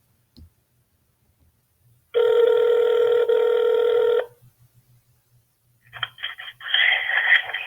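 A telephone rings on a call to Immigration and Customs Enforcement: a soft click, then one loud two-second ring tone, a pause, and a click with a faint ring as the line is answered.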